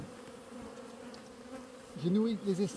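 Honey bees drone steadily at a hive just after the swarms were fed a honey-and-water mix, a dense low buzz swelling louder near the end as bees fly close past.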